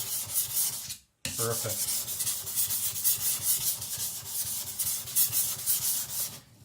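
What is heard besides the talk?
Victorinox Chinese cleaver rubbed on sharpening stone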